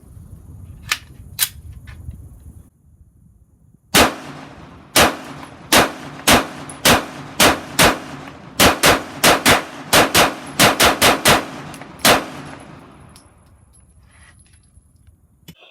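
Remington RP9 pistol firing Remington 115 grain jacketed hollow point rounds: about twenty sharp, loud shots outdoors, a few scattered early, then a steady rapid string with brief pauses between groups, no talking.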